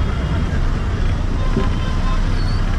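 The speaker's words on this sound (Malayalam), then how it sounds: "ഗോദാവരിയുടെ മുകളിലൂടെയുള്ള പാലത്തിലൂടെയാണ് നമ്മുടെ ഈ ഒരു ബസ് പൊയ്ക്കൊണ്ടിരിക്കുന്നത്" A bus rolls across a bridge over the Godavari river, a constant low engine and road rumble close by with traffic noise around it, unbroken throughout.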